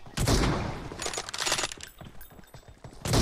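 Gunfire in PUBG Mobile ending in a headshot, heard as a loud burst of shots at the start, then scattered bangs and a final loud report.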